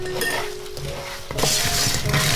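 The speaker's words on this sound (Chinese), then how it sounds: "现在可以把炸好的芋头倒进来，快速翻拌" Fried taro being tossed quickly in a wok of foamy sugar syrup with chopped scallion, with sizzling and a bright scrape and clink of the utensil against the pan, growing louder in the second half.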